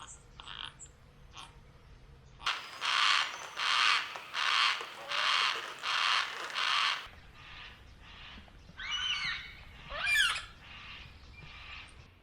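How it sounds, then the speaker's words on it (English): Yellow-tailed black cockatoos call outdoors in a run of about six loud, rhythmic squawks, followed by softer harsh calls and other bird chatter nearby. "I'm surrounded by yellow-tailed black cockatoos."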